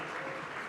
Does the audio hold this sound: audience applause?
yes